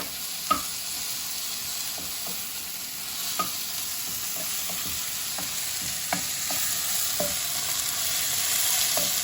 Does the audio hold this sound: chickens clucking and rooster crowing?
no